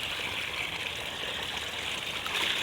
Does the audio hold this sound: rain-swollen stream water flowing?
yes